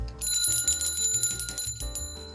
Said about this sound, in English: I am ringing that bell because that is an accomplishment